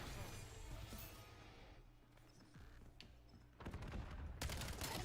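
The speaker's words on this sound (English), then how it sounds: "Enemy sniper shooting." Gunfire in the video game Black Ops 7, including enemy sniper shots. There are scattered sharp reports and a dense burst near the end, heard amid the game's background noise.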